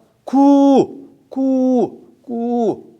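A voice imitates a pigeon cooing, making three drawn-out, hooting coos in a steady rhythm, loud and close, during a sermon.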